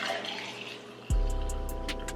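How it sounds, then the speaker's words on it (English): Freshly brewed Colombian coffee is poured into a glass after a quiet moment, a sudden close splash settling into a steady trickling stream that continues to the end. "So I'll pour it in here"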